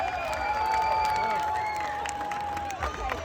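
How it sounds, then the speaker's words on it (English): At a county fair pig race, a crowd cheers and claps in a dense continuous roar, with a steady sustained tone held over the noise. "Let's give Sophie a great big cheer."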